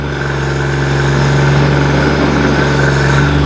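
Digger King T40 mini digger with its engine running at steady revs, a loud, close, constant diesel drone with a strong low hum and no voices over it.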